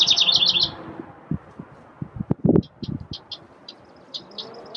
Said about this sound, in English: It's this little bird, and it's making so much noise.